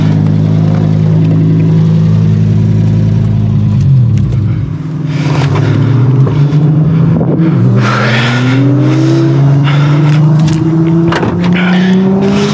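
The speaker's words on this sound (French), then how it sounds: "Ok, il y a un bruit moteur," A car engine runs loud and close, idling with a steady drone before revving up in rising sweeps, with rattly mechanical noise over the top and no talking.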